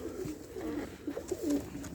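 Pigeons for sale, kept in cages, coo in a low, soft, repeated murmur against a steady background hum, with a few louder coos standing out near the end.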